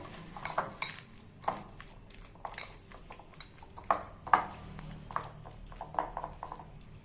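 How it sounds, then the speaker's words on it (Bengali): Egg chop filling is mashed and pressed in a bowl, giving soft scattered scrapes and light clinks of a utensil against the dish, quiet and close, with no talking. "তো এখন আমি ভালো করে চটকাতে হবে"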